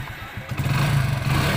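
A motorcycle engine starts and settles into a steady, throbbing run, the low rumble rising and holding loud and close; the bike is fitted with a speed limiter set to 50 km/h.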